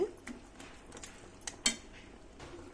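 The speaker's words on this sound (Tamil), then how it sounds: "கீரை ஓரளவுக்கு இந்த மாதிரி கொஞ்சம் வெந்ததுக்கு அப்புறமா நல்லா கரண்டியாலே மசிச்சு விட்டுட்டு" A ladle mashes cooked spinach with toor dal in a pot, faint metallic scrapes and a couple of sharper clinks against the vessel, quiet and close.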